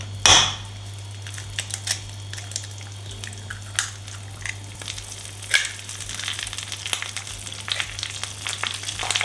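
Eggs frying in a pan on top of pesto with no added oil, giving a steady soft sizzle with scattered crackles and small pops, close and fairly quiet, with a steady low hum underneath and no talk.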